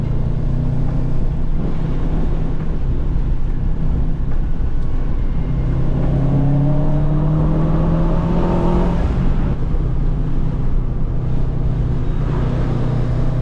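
Car with a freshly rebuilt engine sliding sideways on a race track, its engine droning loud and steady with rising revs and tire noise throughout, no voices.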